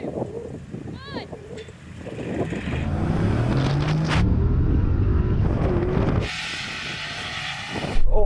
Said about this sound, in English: we're going to drag race to the cone, which is quickest to 50 metres